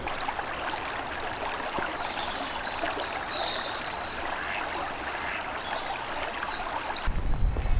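A brook flows steadily nearby, giving a continuous soft rushing and trickling wash of water at a moderate level, with faint birdsong above it and a slight rise in low rumble near the end.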